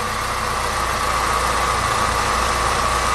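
Chevrolet HHR SS Turbo engine running in reduced-power mode, a steady close idle-like drone with low rumble and constant vibration throughout, no talking.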